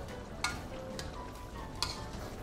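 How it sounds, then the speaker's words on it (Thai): Thai panang beef curry with pea eggplants and kaffir lime leaves simmers in a pan, a soft continuous bubbling sizzle broken by a couple of brief clicks of a utensil. "จะเคี่ยวต่ออีกนิดนึงนะครับให้ตัวมะเขือพวงเนี่ยสุกนะครับ"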